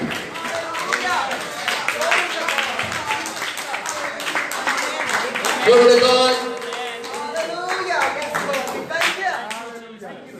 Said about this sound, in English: Stand to your feet, clap hands